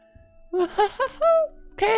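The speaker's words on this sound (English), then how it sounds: "The bell rings." A school bell in the Katawa Shoujo visual novel rings with a short sequence of bright, clear chime tones, loud and close, ending in a final struck note.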